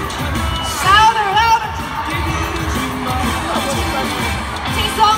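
A large crowd of fans at a concert game segment cheers and shouts loudly and continuously, with voices rising in bursts above a dense roar.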